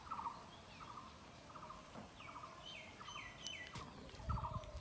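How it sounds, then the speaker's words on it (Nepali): Birds calling in a forest near a village, repeated chirps and short calls over a quiet hissing background, some nearer and louder toward the end. "जङ्गलमा विभिन्न पन्छीहरू चराचुरुङ्गीहरू कराएको आवाज पनि मजाले सुन्न पाइन्छ।"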